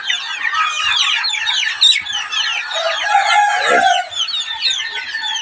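A flock of desi chickens clucks busily on a farm, the close, overlapping calls running throughout, while a rooster lets out a crow partway through.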